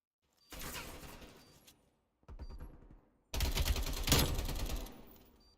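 Automatic fire from a Milano submachine gun in a Call of Duty Search and Destroy match, heard as three dense, loud bursts, two short and one longer, separated by brief silences, with no talking.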